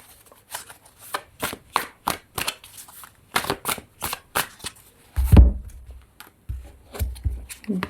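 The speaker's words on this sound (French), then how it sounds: "je vais tirer 3 cartes du tarot pour ce choix" Tarot cards are shuffled and drawn from a deck, a string of crisp close flicks and slaps with a few heavier thuds, and a voice speaks softly between them.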